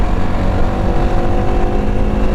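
A TVS Apache RTX 300 adventure motorcycle in tour mode, its engine roaring loud and close with steady throttle in one continuous rumble.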